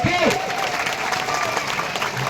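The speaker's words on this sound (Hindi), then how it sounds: "एक बार जोरदार तालियां उनके लिए बजा दीजिए" A rally crowd applauds steadily at an outdoor political gathering, the dense clapping continuing throughout while a loudspeaker voice briefly sounds over it.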